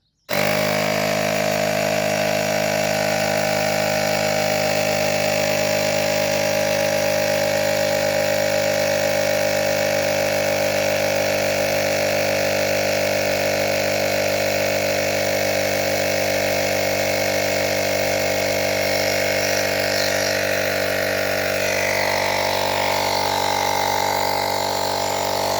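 A Temu portable tire compressor runs steadily while inflating a tire, a loud continuous motorized drone with a strong mechanical hum that holds unbroken for the whole stretch, no voices over it.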